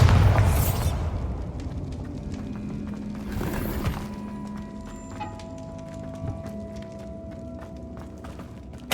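A Bombarda spell goes off in Hogwarts Legacy: a loud, broad blast at the start with a second burst of debris near the four-second mark, settling into rumbling ambience and ringing tones, with no talking.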